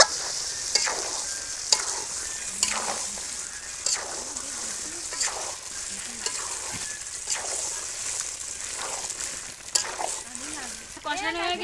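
Curry base being stir-fried in a pan, a steady sizzle with repeated scraping and stirring strokes throughout, close and moderately loud with no talk.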